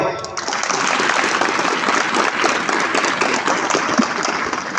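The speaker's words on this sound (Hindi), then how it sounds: "इनके लिए सबसे जोर से ताली बजाओ." Loud, sustained applause fills a college annual function as the audience claps for student performers, a dense continuous wash of hands that holds steady from start to finish.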